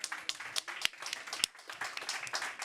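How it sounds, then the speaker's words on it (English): A conference audience at a climate change innovation pavilion gives scattered, fairly faint applause for the speakers, with a steady patter of individual claps throughout. "Big round of applause for everyone here."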